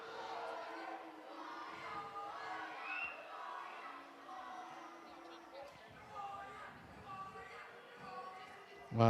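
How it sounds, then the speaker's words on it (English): Home football crowd at Gateshead's stadium booing a visiting Nottingham Forest penalty taker, a sustained broad wash of jeers and shouts with no break, fairly loud and distant, with an abrupt louder burst at the very end. "Jimmy Sinclair steps forward to a chorus of boos from the home crowd."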